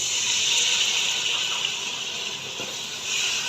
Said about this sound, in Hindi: इसमें शामिल कर दूँगी पानी